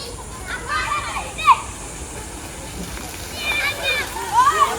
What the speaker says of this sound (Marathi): इथे पाण्यामध्ये उड्या मारतात